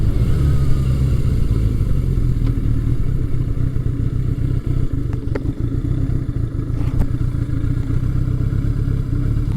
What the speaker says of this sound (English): We'll see how it idles here.